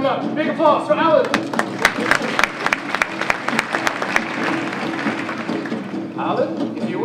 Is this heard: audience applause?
yes